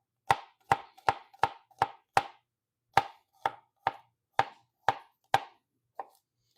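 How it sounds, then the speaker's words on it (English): Knife mincing large garlic cloves on a cutting board, a dozen crisp, close knocks in a steady rhythm with a brief pause midway, alone without talk. "I'm going to mince it up and add it in there"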